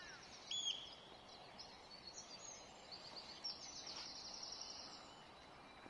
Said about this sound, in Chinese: 就是你都会听到虫鸣鸟叫